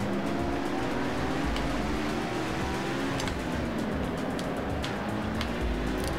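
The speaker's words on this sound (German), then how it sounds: "Du hast echt einen lauten Motor." A race car engine roars loudly and continuously in the Total Immersion Racing video game, a steady droning whine with rising and falling pitch under broadband road noise, with no talk.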